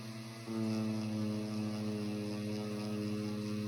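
A Dremel rotary tool polishes stainless steel with compound, giving a steady, loud motor whine with a strong harmonic hum that starts abruptly after a brief quieter moment and holds evenly throughout.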